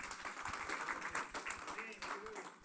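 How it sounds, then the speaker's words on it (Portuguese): Church congregation gives a quiet round of applause, dense rapid clapping from many hands heard faintly at a distance, with voices underneath. "Dê uma salva de palmas ao Senhor por esses irmãos."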